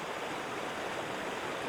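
A recorded river plays back in the Reaper audio software, a steady, dense rush of flowing water heard alone throughout at moderate level.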